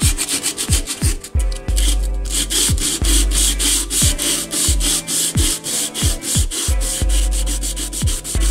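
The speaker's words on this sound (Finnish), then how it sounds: "Ensimmäinen hiontakerta." Steady back-and-forth sanding on a wooden countertop during a first sanding pass, rhythmic abrasive strokes about once per second, close and loud with no talking.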